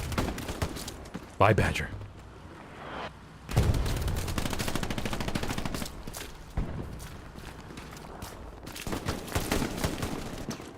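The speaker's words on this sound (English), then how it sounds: "Grease gun action." A grease gun fires in a World War II-style online battle on Omaha beach, with bursts of automatic gunfire and distant shots under a speaking voice.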